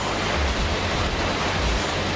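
Loud, steady rushing water fills a level in the Sonic Adventure 2 Battle video game, a dense, unbroken wash of noise with water all around and no voices.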